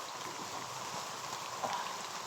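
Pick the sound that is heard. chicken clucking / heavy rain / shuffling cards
heavy rain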